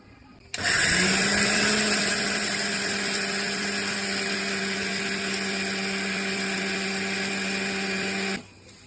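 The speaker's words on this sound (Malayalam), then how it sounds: "അടുത്തതായിട്ട് അരിയും എള്ളും നന്നായി പൊടിച്ചെടുക്കുക" A mixer grinds roasted rice and sesame seeds, starting abruptly with a loud, high steady whine that holds for about eight seconds and then cuts off sharply.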